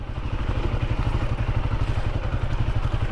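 An adventure motorcycle coasts in first gear over wet clay, its engine putting out a close, steady low pulsing thrum with light clatter throughout.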